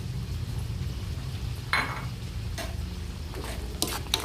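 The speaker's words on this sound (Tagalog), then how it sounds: "ilagay ko na yung sitaw" String beans dropped into a cooking pot for a sinigang-style dish, giving a steady low simmering hiss with a sharp clattering drop, then a few light knocks and ticks nearby.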